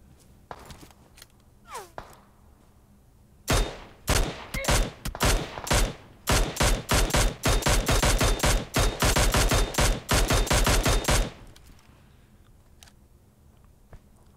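Gunshots in PUBG Mobile: after a few scattered faint noises, a loud sustained barrage of sharp, rapid shots runs for about eight seconds, then stops abruptly, leaving quiet background with occasional soft clicks.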